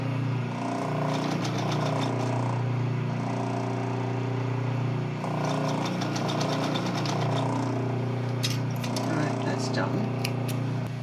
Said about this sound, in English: I want to sew it with the front extending